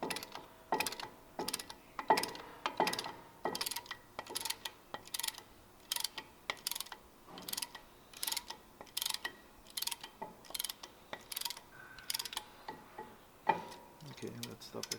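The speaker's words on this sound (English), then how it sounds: "And just ratchets, pushes all 4 pistons at the same time." A tool ratchets in repeated quick clicking bursts while pushing back the pistons of a front brake caliper on a 2020 Toyota Tacoma, with short pauses between strokes and faint voices at times.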